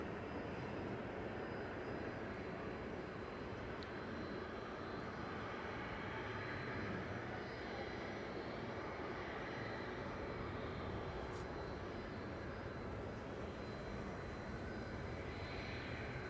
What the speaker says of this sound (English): So we've got TUI from Verona arriving